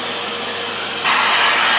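A Numatic Henry vacuum cleaner runs with its brush removed, giving a steady broadband whoosh of airflow that steps up abruptly in loudness and brightness about halfway through, then holds close and constant.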